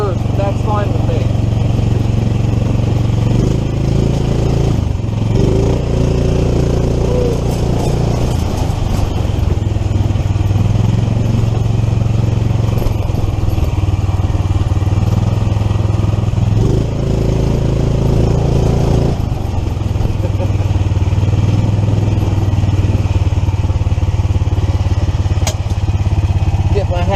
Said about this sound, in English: This three-wheeled golf cart really handles it.